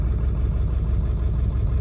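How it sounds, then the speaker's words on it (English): A Ford 7.3L Powerstroke diesel idles close by with a slightly rough, uneven idle, producing a steady low rumble with fast throbbing pulses and no talk over it. "Not the world's smoothest idle"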